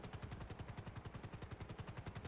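Rapid automatic gunfire from a video game rattles in a steady, evenly spaced burst of about a dozen shots per second, fairly faint and with no voices over it.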